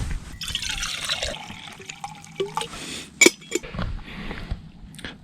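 Water from a quart container pours into a cup outdoors on a frozen lake during an ice fishing outing, a faint splashing trickle with a few sharp clinks and knocks nearby.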